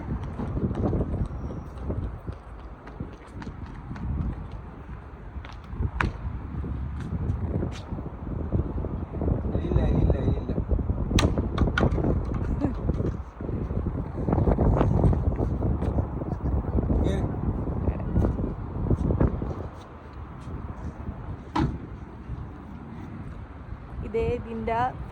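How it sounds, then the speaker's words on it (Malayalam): Strong wind outdoors in Qatar buffets the microphone as a steady, loud broadband rumble that runs through the whole stretch, with people talking over it throughout. "നല്ല കാറ്റുണ്ട് കേട്ടോ പുറത്ത്"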